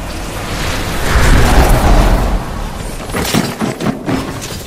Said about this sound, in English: Nailed him with grenades.